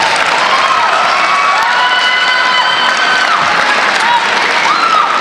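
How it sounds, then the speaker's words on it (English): Applause and cheering for a Georgia 4A state champion basketball team, loud sustained clapping from a crowd with whoops and shouts mixed in, continuous throughout. "That calls for applause."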